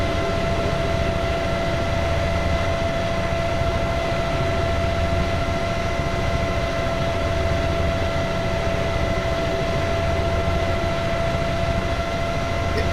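Continuous drone of a light airplane engine on approach to a runway, a steady loud hum with tonal whine held evenly throughout.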